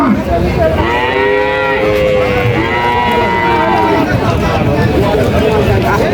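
Large Holstein Friesian dairy cows moo repeatedly at a cattle market, long low bellowing calls overlapping one another against a noisy crowd of voices and steady background bustle.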